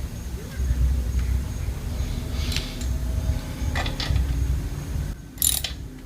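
A ratchet snugs down the final drive fill bolt on a Yamaha FJR 1300 motorcycle with scattered, close, light clicking. A low background rumble runs under it, and a sharper burst of clicks comes near the end.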